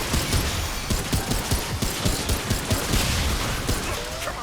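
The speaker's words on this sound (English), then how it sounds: "Let's try the pistol." Rapid pistol fire in the video game Remnant 2, a dense run of sharp repeated shots in quick rhythm, loud and close against a busy game soundscape.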